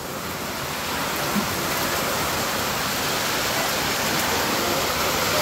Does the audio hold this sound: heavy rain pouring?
yes